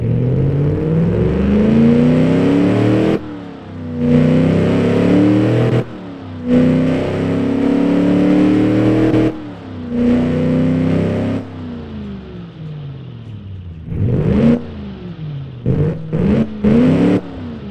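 A Chrysler LA 318 V8 fitted with a new camshaft and new exhaust revs hard in loud bursts, pitch sweeping up and dropping back between brief pauses, ending in a series of short sharp blips.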